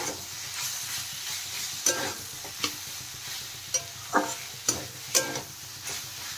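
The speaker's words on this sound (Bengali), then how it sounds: "দেখেন মশলার সাথে সয়াবিন ভালো করে কষানো হয়ে গেছে।" Soybean chunks stir-fried with spices in a pan give a close, steady sizzle broken by repeated sharp scrapes and clacks of a spoon against the pan, coming at irregular intervals.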